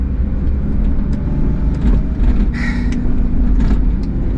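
Steady low engine rumble and road noise fill the cabin of a new Mitsubishi Townbox kei van as it drives along. The sound continues throughout, with light rattles and faint ticks above the drone.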